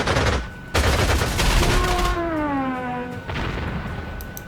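Gunfire bursts in a Panzer Corps 2 wartime strategy game attack: a loud volley crashes in, rumbling explosions follow, and a second blast hits near the end, with no talking.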